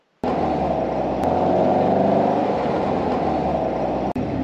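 A modified old air-cooled Volkswagen engine runs steadily and loudly up close, a continuous rough mechanical drone with a slight rattle, holding throughout before a brief break near the end.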